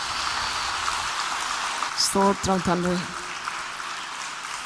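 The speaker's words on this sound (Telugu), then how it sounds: "చప్పట్లు కొట్టి దేవుని స్తుతిద్దాం" A church congregation clapping hands together in praise, a short burst of rapid applause over a rain-like hiss, with someone speaking over it.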